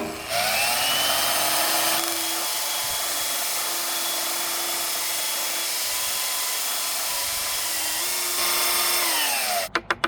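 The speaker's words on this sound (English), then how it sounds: "now we just gotta grind this one down" A power tool grinds down a handmade red oak revolver grip in one long, loud, steady whine, with a spin-up at the start, a brief dip near the end and a few sharp clicks as it stops.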